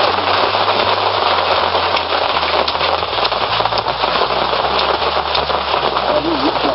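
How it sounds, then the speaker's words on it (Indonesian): Rain falls steadily outdoors, a loud, continuous hiss of drops that runs unbroken from start to finish over a low, wavering hum underneath. "kondisinya lagi hujan."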